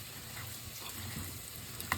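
Meat and potatoes sizzle and crackle quietly in a pan, a steady faint frying hiss with a small clink near the end.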